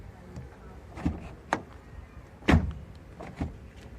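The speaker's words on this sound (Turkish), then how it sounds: "Şu an gayet güzel çalışıyor kapı kolumuz." Renault Fluence car door handle being worked, several short clicks and clunks of the latch mechanism at uneven intervals, fairly faint in a quiet setting.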